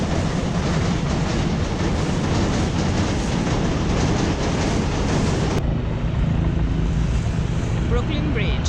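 Boat wake on the water near New York's Brooklyn Bridge, heard from a sailboat: steady rushing water and wind noise, a broad churning wash that drops slightly in intensity partway through, with a low engine-like rumble underneath.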